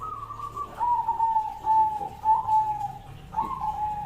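A zebra dove coos steadily in a soft, whistly, rolling series of notes close by, repeating without pause against a low background hum.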